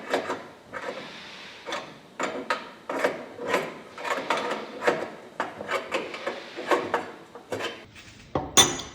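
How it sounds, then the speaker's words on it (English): A wrench tightening a diamond blade re-dressing tool mounted on a grinder, repeated close metallic ratcheting and rubbing scrapes in short uneven strokes, ending with a sharper clank. "So you just want to tighten that up, like so. Use a wrench."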